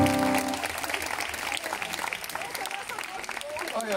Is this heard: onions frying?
no